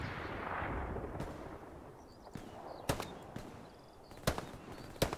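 Cannon fire in a played video game: sharp, distant booms land irregularly, about six in five seconds, over a low rumbling wash with no voices.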